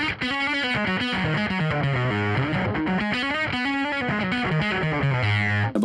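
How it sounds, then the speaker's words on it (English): Electric guitar played through a classic octave fuzz pedal, giving a thick, distorted, buzzy tone with shifting notes and chords, loud and continuous throughout with no talking. "And then on the right, I have a more classic octave fuzz,"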